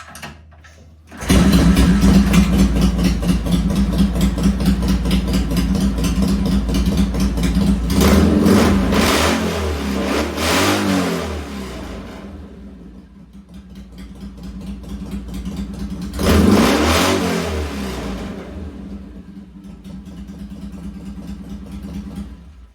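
Engine of a 1966 BSA chopper motorcycle, being tested on a heavier auxiliary battery, catches and runs loud and close, idling roughly with two strong revs rising and falling before settling back.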